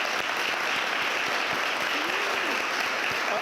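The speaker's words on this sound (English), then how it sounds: "I'd like to give a round of applause for our panelists" Dense, steady applause from a large audience at a national veterans convening, welcoming the panelists, a continuous even wash of clapping with no gaps from start to end.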